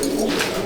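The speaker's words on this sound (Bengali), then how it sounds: "তো এইটা হচ্ছে সমস্ত ফিমেল পায়রাগুলো" Madras pigeons in a breeding loft holding females and a few young birds, giving a brief, steady low cooing drone up close with no talk.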